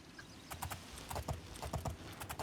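Horse hooves clip-clopping in the video game Oblivion, a steady, fairly quiet walking rhythm of paired hoof strikes on hard ground, with no talk over it.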